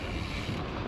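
Steady, dense wind buffeting a microphone while cycling along Riverside in Sacramento's Greenbelt, a continuous low rumbling roar with no pauses, loud and close throughout.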